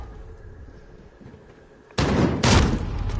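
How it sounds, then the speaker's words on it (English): Sudden loud blasts from a precision airstrike in Call of Duty on PS5 cut in after a quieter stretch of game ambience, two heavy booming bursts landing half a second apart and rumbling on. "Enemy precision airstrike, get down."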